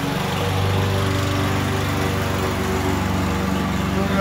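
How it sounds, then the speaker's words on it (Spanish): A lawn mower cutting grass in a yard, its small engine humming steadily and loudly close by, alone with no talk. "Están cortando la yarda."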